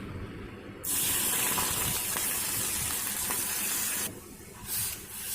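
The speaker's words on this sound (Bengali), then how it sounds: "ঘিটা একটু হালকা গরম হতে হবে এবার আমি দুধটা দিয়ে দিচ্ছি" Milk pours into warm ghee in a pan while making semolina gulab jamun, giving a steady broadband hiss and bubbling sizzle that starts abruptly, holds close and loud for about three seconds, then eases and briefly swells again.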